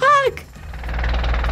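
Seized engine in the BeamNG driving game, a low, rough rhythmic knocking rumble that builds steadily after a brief burst of tonal voice at the start.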